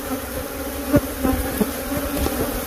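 A dense swarm of honey bees hums steadily around freshly removed honeycomb, loud and close, with a few individual bees whizzing past and no voices.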